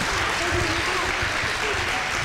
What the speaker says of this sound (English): so give them applause and yourself